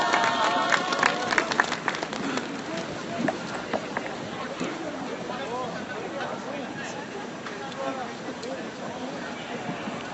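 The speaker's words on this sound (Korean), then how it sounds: "뜨거운 박수로 맞이해 주시기 바랍니다." An outdoor rally crowd at a Wednesday protest over the comfort women agreement gives warm applause, with sharp claps early that settle into a broad, steady wash mixed with crowd murmur and scattered voices.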